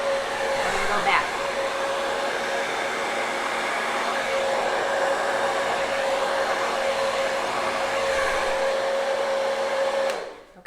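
A hairdryer blows steadily over freshly poured paint on trivets and coasters, a constant close whooshing roar with a faint tonal whine that runs unbroken for about ten seconds before cutting off abruptly.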